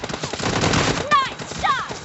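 Automatic gunfire rattles in a rapid close burst in the mobile battle-royale game PUBG Lite, followed by short electronic game alert tones.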